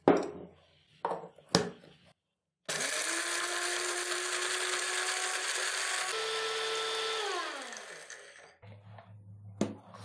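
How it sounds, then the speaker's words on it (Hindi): An electric grinder powdering a mix of dry spices, a loud, steady high whine for several seconds that rises in pitch and spins down, with brief knocks and handling before and after. "अब ये हम सारी चीजें ग्राइंड करेंगे।"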